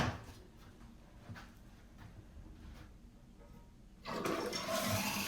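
A repaired toilet flushes: after a quiet stretch of faint clicks and handling noises, the flush bursts in loudly near the end and rushes on steadily.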